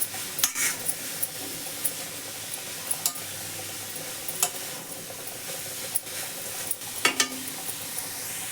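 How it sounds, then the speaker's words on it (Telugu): Grated carrot is stirred in a frying pan over a soft, steady sizzle, with sporadic spatula scrapes and clicks close by. "క్యారెట్ తురుము వేసుకున్న తర్వాత ఈ విధంగా బాగా కలుపుకోండి"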